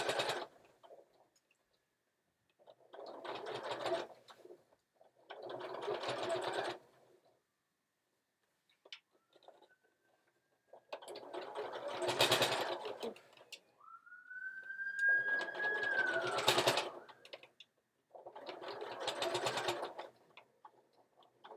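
Sewing machine running basting stitches on a Sew Together Bag, six separate bursts of rapid mechanical stitching chatter with quiet pauses between, close and clear, with a brief faint whine in between.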